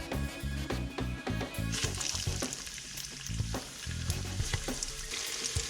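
Hot oil sizzles and crackles loudly and continuously over medium heat as prawns deep fry, with bursts of spattering and some stirring or clinking over the steady frying hiss.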